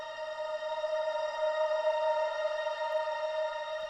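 In Ableton Live, a sustained synth pad runs through a shimmer reverb set to a 100% blend and pitched up a fifth. It holds a steady, bright, glassy chord with stacked harmonics for several seconds, alone and unbroken.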